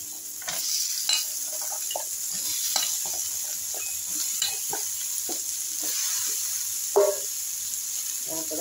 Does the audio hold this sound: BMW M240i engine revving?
no